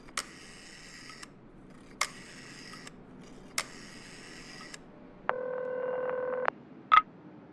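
A telephone number being dialed for a hospital: three short double-tone beeps spaced about a second and a half apart, then a longer steady tone and a final brief click, clear and close against a quiet background.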